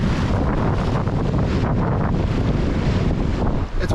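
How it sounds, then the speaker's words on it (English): Strong 21-knot wind roars across the microphone aboard a sailboat running under jib and double-reefed mainsail off the Dutch coast, with waves washing beneath it in a constant, loud rush. "And we have 21 knots of wind."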